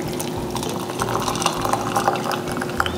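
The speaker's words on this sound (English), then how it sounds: "pouring some water" Water poured for tea, a continuous close trickle and splash over a low steady hum lasting a few seconds, no one speaking.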